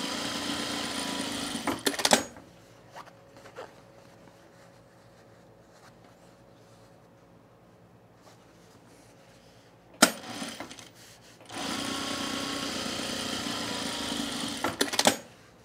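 A sewing machine stitches pleats on men's cargo shorts in two loud, steady runs, one at the start and a longer one later, with a quiet stretch of faint hum between them.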